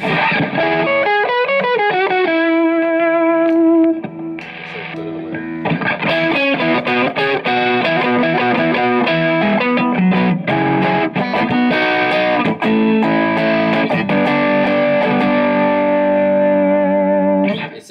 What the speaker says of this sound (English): actually just a great sounding overdrive when you turn up the gain